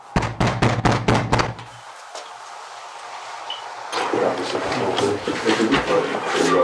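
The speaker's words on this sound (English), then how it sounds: "they approach the front door and knock loudly for a couple minutes" Police officers pound loudly on the front door of a house on a cool January morning: a rapid run of heavy, close knocks, then a pause and a muffled voice talking from inside.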